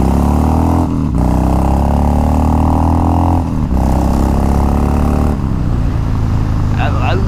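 A Harley-Davidson Dyna Low Rider with a 96 cubic inch engine rumbles loud and close, revving in a few surges with brief dips before settling to a rougher idle.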